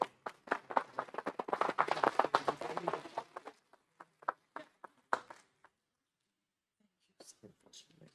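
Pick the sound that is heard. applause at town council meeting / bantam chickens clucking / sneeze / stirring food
applause at town council meeting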